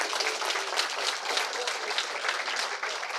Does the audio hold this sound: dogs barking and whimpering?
no